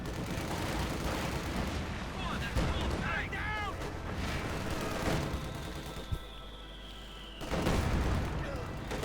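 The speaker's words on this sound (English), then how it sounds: "Further heavy mortar fire" Heavy mortar fire in Company of Heroes 2 battle, repeated booming explosions and crackling gunfire in a dense, loud mix, with a brief quieter stretch before the blasts resume.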